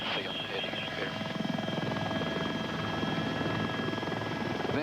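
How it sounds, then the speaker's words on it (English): A helicopter in forward flight gives off a steady, even rotor thump and whining turbine hum that stays constant at a moderate distance throughout, with no pauses. "Once we're in forward flight, the helicopter flies very much like an airplane."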